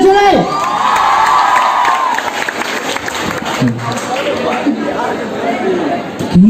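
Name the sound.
audience clapping and cheering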